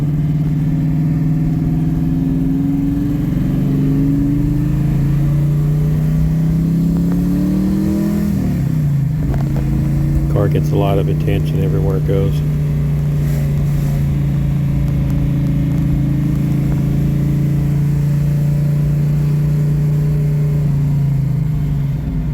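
A 1970 Ford Boss 302 on a test drive, its engine droning steadily with a rev change partway through, close and loud throughout, with a brief voice over the engine.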